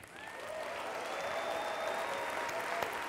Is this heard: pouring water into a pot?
no